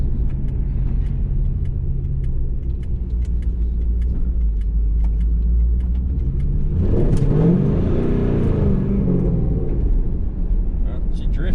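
A Pontiac Trans Am WS6 fitted with BMR suspension drifts. A steady low engine drone runs until its revs surge into a loud, rising roar with tire noise, then settle back.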